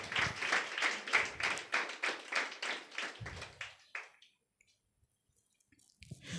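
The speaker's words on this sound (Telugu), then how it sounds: "ఒక్కసారి చప్పట్లు కొట్టండి." A church congregation bursts into applause during a Sunday service, a dense run of clapping lasting about four seconds before it stops abruptly and leaves near silence.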